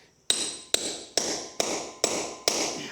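Six evenly spaced sharp metallic hammer strikes drive a setting tool into drop-in concrete anchors, each crack ringing briefly and close up, in a steady rhythm about every half second.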